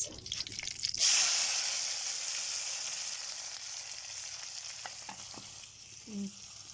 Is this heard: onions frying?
yes